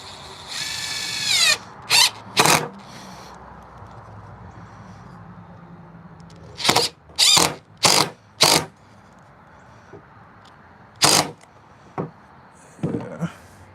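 A power drill drives a screw into wooden coffee table legs in a series of short, close whirring bursts separated by pauses, with an occasional brief squeal as the bit bites into the wood.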